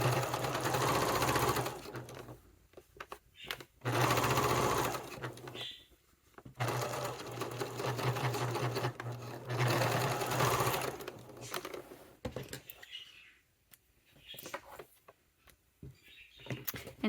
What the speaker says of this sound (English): I'm going to increase my stitch length and just top stitch over this